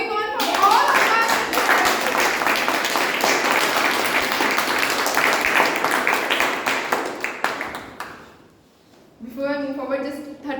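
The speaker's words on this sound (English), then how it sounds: "Keep the applause going on for all of us." Audience members clap and applaud steadily for about eight seconds at a club meeting, a dense, close wash of hand claps that fades out before voices speak briefly at the end.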